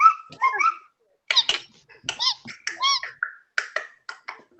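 A person imitating a cricket's chirp with the voice, a series of short, high, squeaky chirping bursts with brief gaps between them, close and clear.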